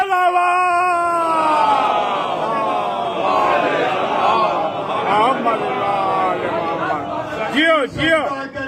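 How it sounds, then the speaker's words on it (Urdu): A crowd at a Shia religious gathering chants loud slogans in honour of Zaid Shaheed, many voices rising and falling together in long sustained calls that fill the room without pause. "جناب زید شہید علیہ السلام بآواز بلند نعرے"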